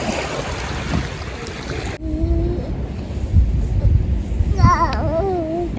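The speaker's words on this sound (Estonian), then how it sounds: "aga rannas me oleme" Waves wash onto a beach on a cool, not-quite-beach-weather day, a broad steady rush with some wind, while a voice and other brief voices rise over it.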